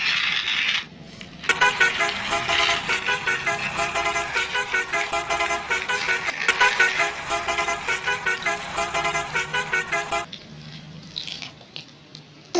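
Cartoon vehicles honk over and over in a traffic jam, a dense run of bright, overlapping toots lasting about nine seconds before fading to quieter background sound.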